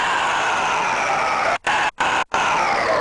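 Screamed metal vocals, isolated, chopped by a rhythmic stutter effect: a loud, dense, distorted scream runs steadily, then cuts out in three quick gaps near the end before resuming.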